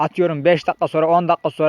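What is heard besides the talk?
None of the usual background noises is heard.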